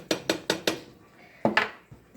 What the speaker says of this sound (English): Drop them in there. Give them a stir.